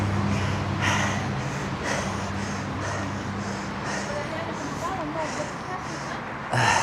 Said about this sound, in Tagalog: At medyo hinihingal-hingal na tayo.